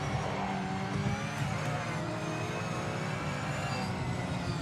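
A GT3 race car engine in the Project Motor Racing video game drones steadily at high revs, loud and continuous, with no voice over it.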